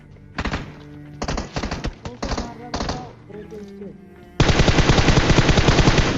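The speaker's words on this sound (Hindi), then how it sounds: "और तभी इसके एक बंदे का फायर आता है जिसको मैं काउंटर कर देता हूँ अपने फायर के साथ।" Gunfire from the mobile battle-royale game PUBG Mobile: bursts of rapid shots trade back and forth, then a dense, loud, continuous automatic stream closes it out, with no talking.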